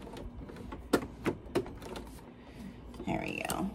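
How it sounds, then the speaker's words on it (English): Sewing machine cranked by hand through several fabric layers, giving a few spaced mechanical clacks and a short whirring run, quiet and close, with a person speaking softly over it. "I'm probably gonna hand crank just a couple times till I get through a couple of the layers"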